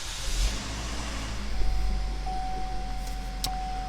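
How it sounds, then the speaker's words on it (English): A 2015 GMC Terrain SLT starting up and settling into a steady, close idle heard from inside the cabin, with a thin sustained tone coming in partway through. "Start the car up, show you the exact miles."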